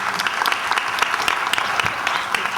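Steady applause fills a hall during a ceremony marking International Data Protection Day, with many hands clapping densely and evenly throughout at a lively, moderately close level.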